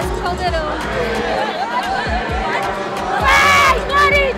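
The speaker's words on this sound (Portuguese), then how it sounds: "A torcida canta no estádio" Corinthians women's team supporters chanting and cheering in a packed Brazilian stadium at a Supercopa final, a loud roaring crowd with a swelling burst of shouting near the end and people talking close by.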